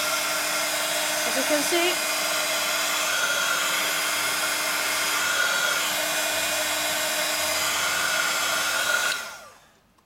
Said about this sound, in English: So as for the heat gun, let's see if I'm correct.